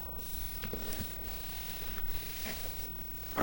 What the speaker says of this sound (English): Take your finger and run in between every hinge. Burnish that down really well.